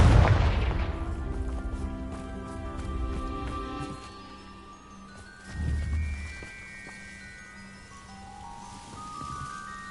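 Confringo fire spell explosion in the game Hogwarts Legacy: a deep boom opens loudly and decays into a low rumble, followed by a second, softer thud midway, with tonal game music tones drifting above.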